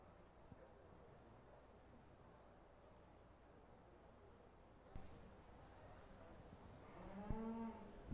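Heifers lowing at a county fair livestock show ring, with a faint low moo near the middle and a clearer, louder moo near the end over distant crowd murmur.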